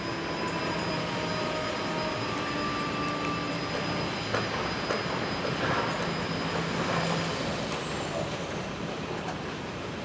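Steady roar of aircraft over New York City traffic and urban hum, a broad constant rumble with faint passing tones, no talk.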